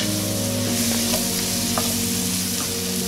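Onions hit a hot pan and set off a dense, steady sizzle that fills the whole stretch, loud and close, with faint stirring scrapes now and then and no talking.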